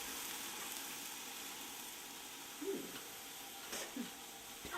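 Garlic sizzling in a pan on medium heat for a vegan chili, a steady faint hiss of frying with a couple of soft stirring bumps.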